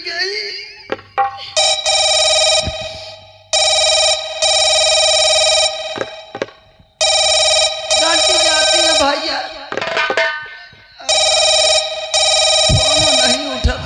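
A telephone rings in repeated long bursts separated by short gaps while a call to a father goes unanswered, with a voice speaking briefly in between the rings.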